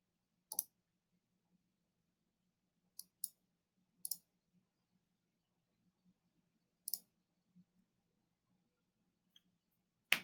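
Computer mouse clicks on a desktop while a real-estate offer program loads: about eight sharp, isolated clicks scattered over ten seconds, some in quick pairs, against a quiet room with faint low hum and no talking.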